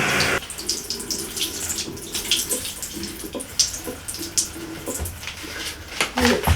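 Water trickles and splashes as it drains out through a plastic nursery pot holding a houseplant, a steady close running flow with irregular drips and small spatters, some louder bursts toward the end.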